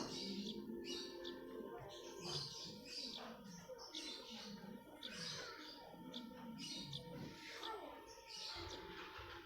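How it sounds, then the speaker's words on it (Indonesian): Pigeons and other birds around an urban area of Garut, with chirps and calls scattered through a busy background of outdoor noise. "Soalnya di sini sekitar banyak merpati."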